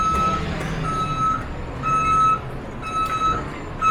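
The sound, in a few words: truck reversing beeps on a film set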